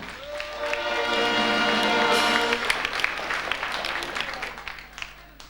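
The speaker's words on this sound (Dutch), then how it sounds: "geef Oost Dansgarde nog eens een daverend applaus" A hall audience at a carnival sitting evening gives a roaring round of applause and cheers for a dance guard troupe. It swells loudly at first, then thins into scattered claps while a voice talks over it.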